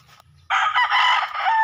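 A rooster lets out a single loud, close crow that starts abruptly after a short near-silent pause and holds strongly to the end, with faint low clucking before it.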